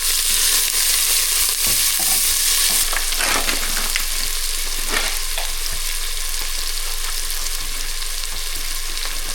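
Garlic and onion fry in a hot pan with a dense, steady sizzle, loud and close throughout, while a utensil stirs and scrapes through them at intervals.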